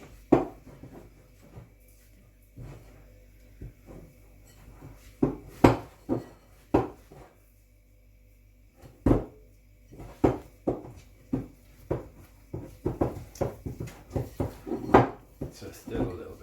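Pizza dough gets scraped and mixed in a bowl, with irregular knocks, taps and scrapes of a utensil against the bowl's sides, some bursts clustered close together, separated by quiet pauses.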